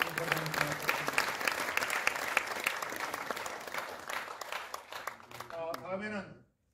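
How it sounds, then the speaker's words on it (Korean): A crowd at the memorial service for founding president Syngman Rhee applauds to welcome board members, a dense steady clapping with a voice speaking over it, fading out as a sung or sustained voiced tone rises at the end. "네, 박수로서 환영해 주신 대단히 고맙습니다."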